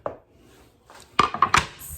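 A knife chops through cabbage on a chopping board, with a soft hit at the start, then three or four sharp close chops in a quick burst.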